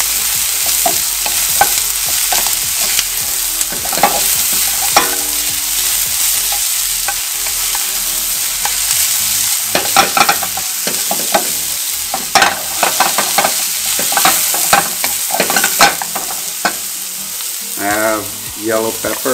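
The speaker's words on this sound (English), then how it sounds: "Then we're gonna put the carrots. There's the carrots. Saute real good." Carrots sautéing in a hot pan for sweet and sour pompano, a loud continuous sizzle broken by repeated clattering stirs and scrapes of the spatula, close up with no talk.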